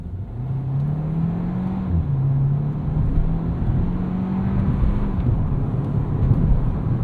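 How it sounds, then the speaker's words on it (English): Engine drone inside a 2024 Hyundai Kona N-Line as its 8-speed torque converter automatic shifts from first to second; a steady hum climbs, dips briefly at the shift, then carries on under road and wind noise. "A little bit of a zesty noise there from first to second from this 8-speed torque converter automatic."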